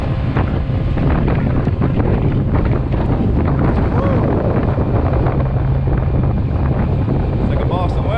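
Honda 50cc outboard motor pushing a stand-up paddleboard through rough seas: a constant loud engine drone mixed with heavy wind buffeting and splashing water, with no break.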